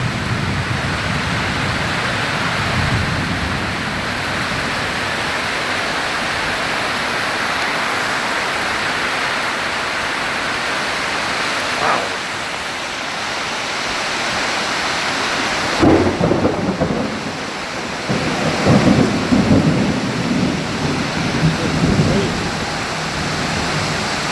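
Thunderstorm during a tornado warning, with steady heavy rain hissing throughout and loud thunder rumbles and cracks breaking through near the end, recorded outdoors with no talking.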